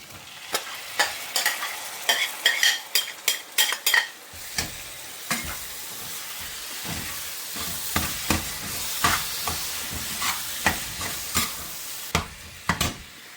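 Onions frying in a pan with a steady sizzle, broken by repeated sharp scrapes and knocks of a spoon stirring against the pan, close and fairly loud, with no talking.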